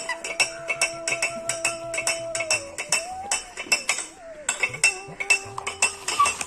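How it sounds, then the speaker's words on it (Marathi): A spoon stirs salt into a glass of water at a school science-day demonstration, giving a rapid run of bright, close metallic clinks against the glass over a steady background tone. "एका ग्लासामध्ये आपण मीठ टाकू आणि हे मीठ चांगलं मिक्स करून घ्यायचंय."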